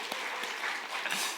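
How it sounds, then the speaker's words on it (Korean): Church congregation at a Christmas youth worship service gives a short burst of applause, brief and moderately loud, with scattered claps blending into a soft wash. "박수 한번 주시겠습니까?"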